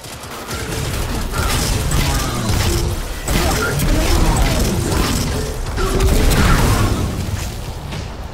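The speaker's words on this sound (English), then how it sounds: "Good explosion." Dense rumbling blasts and crackling debris from an explosion in Destiny 2, a heavy noisy roar that swells and fades over several seconds.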